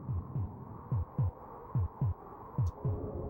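Heartbeat effect from Populous on the SNES: a slow, regular low double thump that repeats evenly over a soft hum, clear and alone.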